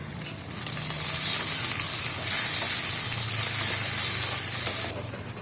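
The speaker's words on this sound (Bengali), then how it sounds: "আলুগুলো হালকা লাল লাল হয়ে এলে এর মধ্যে দিয়ে দেব পেঁয়াজ কুচি, এরপর দিয়ে দেব রসুন কুচি, দিয়ে ভালো করে নাড়তে থাকবো।" Potatoes with chopped onion and garlic sizzle steadily in hot oil, a loud continuous crackling hiss with faint scraping from stirring throughout, no voices present.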